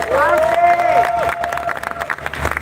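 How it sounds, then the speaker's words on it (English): Audience applause and cheering at a live stage event, a brief burst of clapping with a loud sustained vocal whoop on top, then scattered claps as it fades. "I think she deserves a round of applause."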